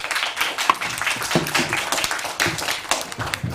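Schoolchildren clap together in a quick, uneven patter close by, with distinct hand strikes standing out over a few seconds.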